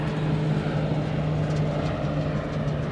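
Pilatus PC-12 turboprop airplane droning steadily at an airport, a continuous hum with a strong low tone holding even throughout, moderately loud and unbroken with no talk.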